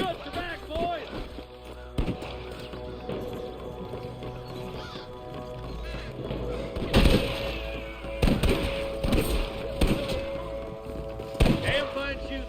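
Gunshots ring out in a Red Dead Redemption 2 shootout, loud bursts and cracks spread across the clip amid busy game ambience and music, with voices talking throughout.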